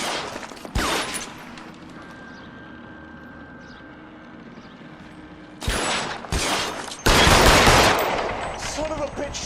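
Gunfire from a shootout in the video game L.A. Noire, with loud bursts of shots near the start, then a quieter stretch under a steady hum, followed by dense, heavy volleys in the second half.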